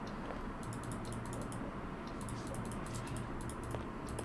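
Rapid clicking while playing the PC game Sherlock Holmes: The Awakened Remastered, light mouse clicks in quick clusters over a steady background hum, close and crisp.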